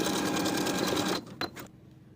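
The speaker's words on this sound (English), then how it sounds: "Then we'll edge stitch the gap in our stitches closed." A sewing machine edge-stitches a fabric belt closed, running in a steady fast whir for about a second, then stopping with a few faint clicks and handling sounds.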